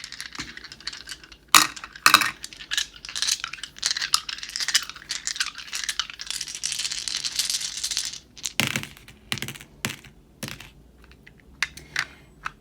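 Six small dice clatter and tumble together in a burst of dense rattling clicks, followed by a few scattered sharp taps as they settle, close and fairly loud with no talking.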